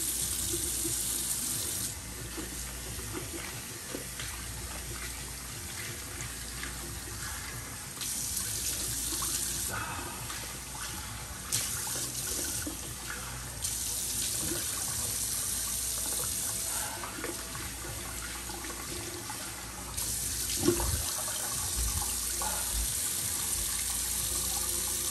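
Tap water runs steadily into a sink while a shaving brush is rinsed out, a close, continuous splashing rush that shifts in brightness as the brush moves through the stream, with a brief clatter near the end.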